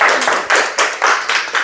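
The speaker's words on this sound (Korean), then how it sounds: "자, 이분들 박수." An audience of parents at a daycare parent-education session claps in a loose, rhythmic pattern, about six distinct bursts of hands beating in time, close and fairly loud.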